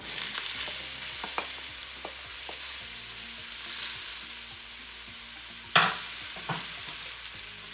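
Mushrooms sizzle in a hot pan while being prepared for an omelette, with a steady frying hiss, occasional stirring scrapes and one sharper clatter.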